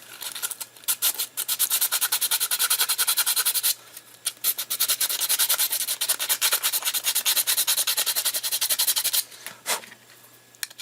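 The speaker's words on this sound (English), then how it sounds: "I'm just going to take the sandpaper and knock that off" Steady, raspy scrubbing of sandpaper on a 3D-printed filament loader part, close up, in rhythmic back-and-forth bursts with a couple of brief pauses.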